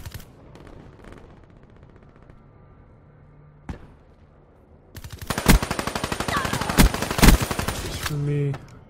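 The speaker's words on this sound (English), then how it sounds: "Weevil's probably the hardest gun to learn in this game." The Weevil gun fires in Black Ops 3 on the Metro map as rapid, loud automatic bursts of close gunshots, preceded by quieter game effects and clicks.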